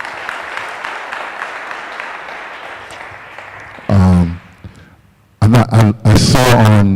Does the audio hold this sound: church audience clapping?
yes